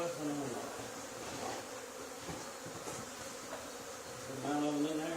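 A honey bee swarm drones steadily inside an old barn, a dense close buzz holding throughout with faint voices and small movements underneath.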